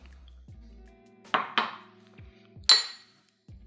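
Boiled chickpeas drop into a blender jar with a few distinct hard clinks and knocks spread over a few seconds. Quiet pauses separate the sounds, which are close.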